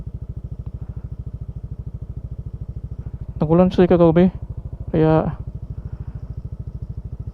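A motorcycle engine chugs in a steady, close, low pulsing rhythm while being ridden on a muddy new road project between Sibalom, Antique and San Joaquin, Iloilo. Two short stretches of speech sit over the constant engine throb.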